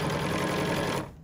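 A sewing machine stitches a wedding dress in a single brief, loud, close burst of rapid stitching that stops abruptly.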